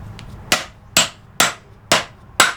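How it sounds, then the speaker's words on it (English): A hammer strikes wood five times at a steady rhythm while a skateboard stand is built, each sharp close knock fading quickly, with no talk. "If I can use the hammer for one bit"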